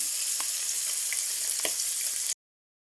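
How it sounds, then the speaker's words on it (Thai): Sausages frying in a pan give off a steady, close sizzle with occasional small pops and spits, then cut off abruptly. No talking. "ในระหว่างที่ย่างไส้กรอก"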